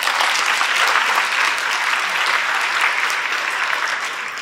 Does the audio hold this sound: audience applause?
yes